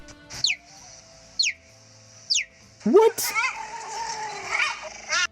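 Three short, high-pitched bird-like chirps from a cheetah spaced about a second apart, followed by a voice exclaiming and talking over a lingering background tone.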